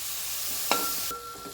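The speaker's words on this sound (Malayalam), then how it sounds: "തക്കാളി ചേർത്ത് നന്നായി വഴറ്റി നെയ്യ് തെളിയണ വരെ നമുക്കൊന്ന് വഴറ്റി കൊടുക്കണം." Tomatoes sizzle in a pan for chicken curry, a soft steady frying hiss with one sharp clink midway, followed by a thin tonal whine near the end.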